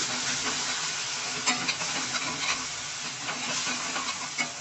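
Masala stirred into aloo kurma simmering in a pot gives a steady soft sizzle and hiss, with faint scraping taps of the spoon throughout.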